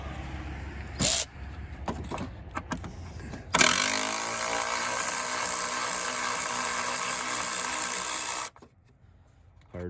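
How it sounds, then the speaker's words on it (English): A power tool runs steadily for several seconds, loosening a 10 mm bolt on the power steering reservoir bracket of a 2008 Nissan Altima, with a few short mechanical clicks and bursts before it starts and a sudden stop at the end. "Power tools come in handy."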